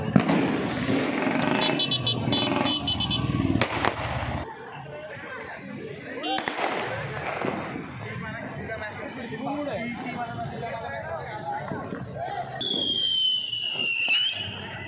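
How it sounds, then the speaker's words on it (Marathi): Diwali fireworks crackle and pop in bursts amid a busy street in Airoli, with chatter and passing traffic throughout and a high whistling tone near the end. "इकडे फटाके लावत आहेत"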